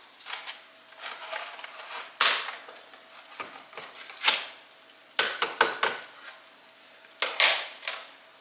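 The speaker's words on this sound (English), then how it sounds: "I'm just stirring this all in well to incorporate it." Red chili sauce stirred in a saucepan for homemade tamales, cooking down on low heat: a utensil scrapes and swishes through the thickening sauce in irregular strokes, with a light sizzle and occasional clinks against the pan.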